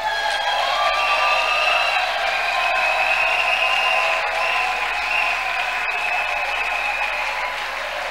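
Congregation at a pastors' consecration service applauding and cheering in approval, a dense, sustained wash of clapping and voices filling a large room, steady for several seconds and easing slightly at the end.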